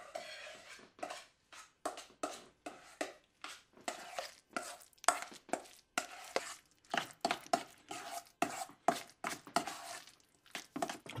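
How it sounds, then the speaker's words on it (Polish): Egg paste being mixed vigorously with mayonnaise in a bowl, a fast run of rhythmic scraping, clacking utensil strokes against the dish, close and steady throughout. "Mieszamy dosyć mocno."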